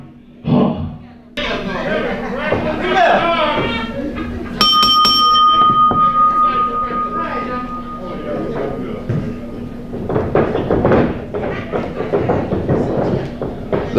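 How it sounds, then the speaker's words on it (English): A wrestling ring bell at an independent wrestling show clangs several quick times, bright and metallic, then rings out in a long fading tone while a voice talks over it and the crowd murmurs. "The bell has rung."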